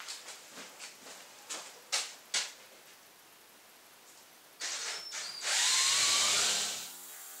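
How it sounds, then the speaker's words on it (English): A power drill with a spade bit boring out through a wall gives several short bursts, then a louder sustained whine whose pitch slides as the bit works through and stops near the end. "And I'm just gonna use a spade bit to go out through the wall."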